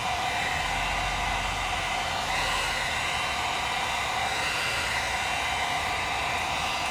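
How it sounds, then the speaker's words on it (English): Heat gun warming amber tint film on a 2009-2014 Ford F150 headlight, a loud, constant blowing hiss with no breaks. "Apply a little heat,"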